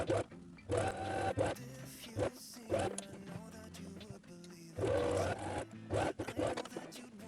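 A sewing machine stitches a skirt seam in short intermittent bursts of mechanical whirring, interspersed with fabric rustling and handling noises, quiet and close, with soft speech or music underneath.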